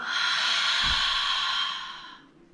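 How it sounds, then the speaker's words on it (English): A deep yoga breath is drawn close to the mic, then released in one long, airy exhale that fades out gradually, alone without talking. "2 more with your own breath. Inhale. Exhale."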